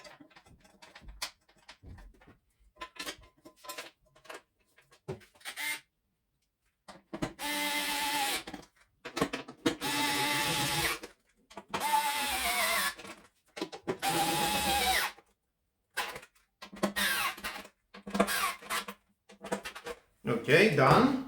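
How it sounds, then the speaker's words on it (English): An electric screwdriver drives screws into a Livarno Home desk chair during assembly, with repeated short whirring bursts between pauses, close and moderately loud, and a voice speaking in the gaps. "I will use my electric screwdriver."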